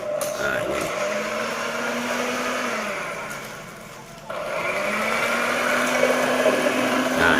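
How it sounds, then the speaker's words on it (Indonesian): Electric mixer whirring as it beats eggs and sugar for sponge cake batter, a steady motor drone that dips briefly in the middle before resuming, with a voice talking over it. "kita mulai untuk proses mixer."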